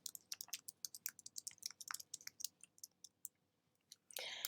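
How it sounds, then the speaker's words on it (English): Quick bursts of clicky computer keyboard typing while entering text into an Excel spreadsheet, close and crisp in an otherwise quiet room, ending with a brief rustle. "In F10, I want to type invoices not paid."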